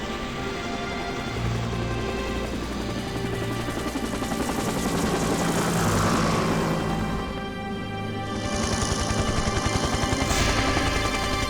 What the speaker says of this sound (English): Chopper's coming in!